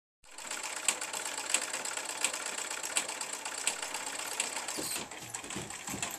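Sewing machines run by a group of about fourteen women stitching school shirts, tunics and pants in an Indian self-help group workshop: a loud, steady mechanical whir with regular clicking beats, continuous for about five seconds before a few scattered knocks.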